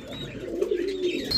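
Strawberry short face pigeons coo at a bird market, a close, low, continuous murmuring coo with faint chirps above it.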